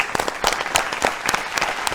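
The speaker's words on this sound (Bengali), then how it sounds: "তাদের জন্য একবার জোরে হাততালি" Applause for a farmers' team on an agricultural quiz show, a steady patter of many hands clapping close by with sharp bursts of louder claps throughout.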